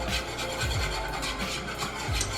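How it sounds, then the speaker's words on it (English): Steady, rhythmic whisking of a thickening sauce with Parmesan cheese stirred in, a close, continuous scraping rasp with regular strokes and no talking. "I'm going to continuously whisk it until it thickens."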